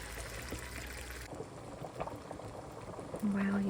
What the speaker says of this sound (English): we're just gonna let this simmer for about 10 minutes uncovered